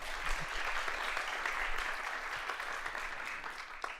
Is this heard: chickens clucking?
no